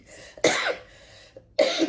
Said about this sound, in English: I was wondering when I was going to start coughing.